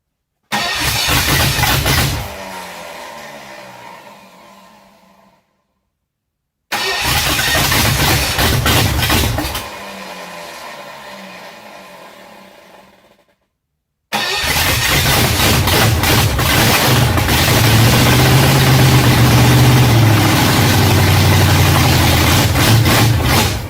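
An old Ford flathead engine, unrun for years, cranks and fires in three bursts: two short runs that die away into silence, then a sustained loud, rough idle with a steady low throb.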